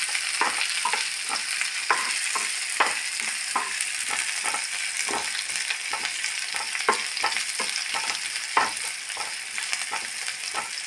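Bitter gourd with curry leaves fries in a pan, giving a steady close sizzle with frequent sharp scrapes and clinks as it is stirred. No one talks.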